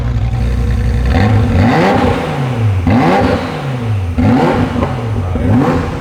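Ferrari F40 engine being tuned while diagnosing a problem, loud and close, swinging from idle into repeated rising and falling revs, several throttle blips in a row with mechanical whir between them.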